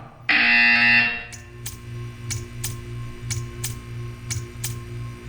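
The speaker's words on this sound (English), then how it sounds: "You will hear a buzzer." A loud electronic buzzer in Portal 2 blares for about a second, then quiet regular ticking follows over a low hum.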